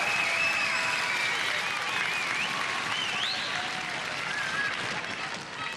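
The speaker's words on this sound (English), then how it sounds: "I think a round of applause for Dean." A studio audience at the Gladiators TV show applauds loudly and continuously, with dense clapping that fades slightly toward the end while cheering and whistles rise over it.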